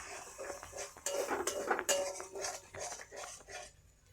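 Eggs being stirred and fried in a pan for a flattened-rice breakfast dish, heard as close, irregular clinks and scrapes of a utensil against the pan, alone without talk.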